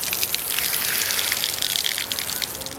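Tap water gushing strongly from a flexible faucet fed by a booster pump, a steady, close, forceful rushing stream with no talk over it.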